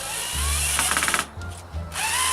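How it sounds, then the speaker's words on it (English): A power drill bores pilot holes through a wooden model railway baseboard, the motor whining in short bursts with a brief rattling chatter as the bit bites, then stopping and starting again. "I hadn't drilled pretty much all the way through to get that actual baseboard lined up pretty much well"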